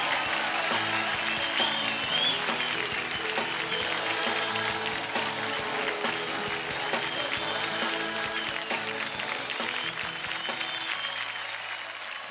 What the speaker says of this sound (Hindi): कम ऑन गाइस, जोरदार तालियां।